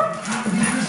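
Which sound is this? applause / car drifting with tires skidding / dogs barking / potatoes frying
dogs barking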